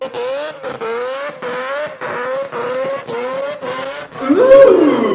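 A Nano Quad paramotor trolley in drift mode with all four wheels steering, its small motor whining up and down in repeated short bursts of revving, ending in a louder rising surge.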